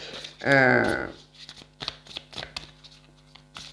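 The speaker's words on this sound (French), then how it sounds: "Je vais tirer sur 5 cartes, celui-là." Tarot or oracle cards shuffled during a card reading, a quick riffle followed by a series of soft flicks and taps as cards are handled, while someone speaks French over them.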